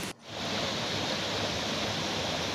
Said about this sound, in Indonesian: Depan saya ada sungai